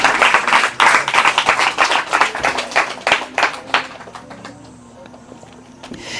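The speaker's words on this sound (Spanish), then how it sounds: "Dale un fuerte aplauso al Señor por esto" A church congregation breaks into loud, steady applause for about four seconds, the many hand claps then thinning out and fading into quiet room ambience.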